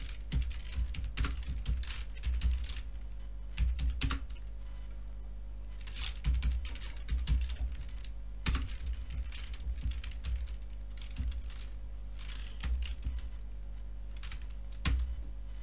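Rapid typing on a computer keyboard while entering a command for a Symfony e-commerce project, with irregular bursts of close key clicks over a steady low electrical hum, no talking.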